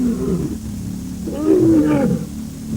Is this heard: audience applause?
no